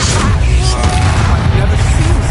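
Confringo fire-blast spell exploding in Hogwarts Legacy, a loud, sustained rumbling boom with crackling that fills the whole moment, with a voice calling out over it.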